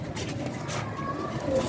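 A pigeon in a loft coos briefly and softly while voices chatter in the background.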